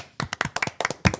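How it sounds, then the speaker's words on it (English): Several people clap briefly, a short burst of uneven handclaps close by. "Round of applause for Adam."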